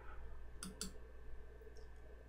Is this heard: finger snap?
no